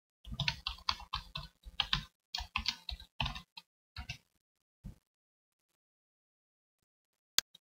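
A computer keyboard clatters with a burst of quick, close keystrokes, thinning out to a few isolated taps before falling silent, then one last faint click.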